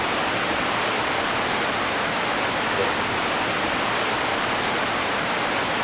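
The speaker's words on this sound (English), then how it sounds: "you hear the rain, but you don't hear any cars out there" Steady rain heard from a Tokyo apartment above the 14th floor, an even broadband hiss that lasts the whole stretch with no traffic or voices beneath it.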